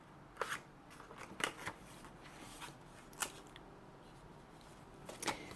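Scissors snip through material for a hot chocolate pouch in a few sharp, close cuts separated by quiet gaps.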